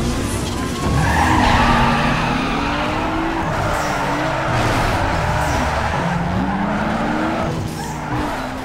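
Car drifting in the racing game NFS Underground 2, with a loud sustained engine roar and long wavering tire squeals as the car slides through turns.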